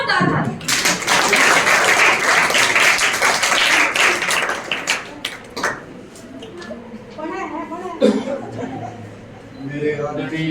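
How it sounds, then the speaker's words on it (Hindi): A crowd of children at an inter-district anti-drug poster making competition in Sonipat gives a burst of loud, dense clapping. The clapping fades after about five seconds and a voice speaks over its tail. "सर के सम्मान में बच्चों जोरदार तालियां"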